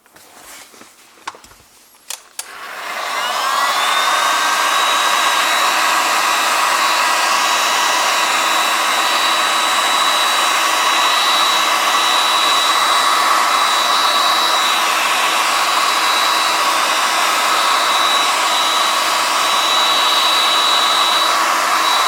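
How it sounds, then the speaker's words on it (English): Heat gun blowing hot air to dry a wet engine-bay filter on a 2001–2009 Toyota Prius, switching on with clicks after a few seconds and then a loud, steady whirring roar with a high whine that runs unbroken to the end. "what generates hot air, and using this device we dry this our filter"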